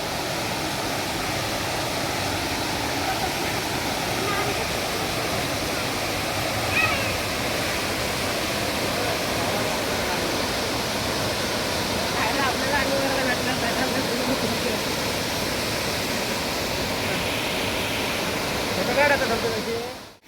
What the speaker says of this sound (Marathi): चला पोचलाव आम्ही धबधब्यावर